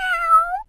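A single cat meow, clear and close, rising slightly and holding for well under a second before breaking off, heard alone with no talk.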